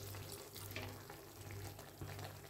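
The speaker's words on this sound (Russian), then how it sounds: "Добавлю чуть-чуть водички" A small splash of water is poured into a pan of beef sauté with vegetables, the liquid running and sizzling softly at low volume close by.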